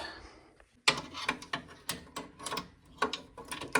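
A nut on a boiler fitting being undone with a ratcheting spanner gives a series of sharp, close metallic clicks in uneven bursts, with a short quiet gap at the start.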